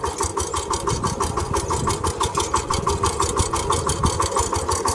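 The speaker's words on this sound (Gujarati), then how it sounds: "હવે આપણું ટ્રેક્ટર ધમસકડી બોલાવવાનું છે" A VST mini tractor engine runs steadily up close in a narrow space, a loud, rapid, even throbbing chug with no pauses.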